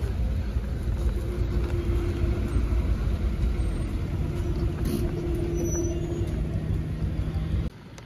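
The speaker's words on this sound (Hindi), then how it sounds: "बच्चों की छुट्टी होने के समय हुआ है तो बहुत ज़्यादा ट्रैफिक जैम हो रहा है यहाँ पे" Heavy traffic jam at school closing time, a steady loud rumble of idling cars, buses and trucks with a low engine drone throughout, a brief air-brake hiss near the end.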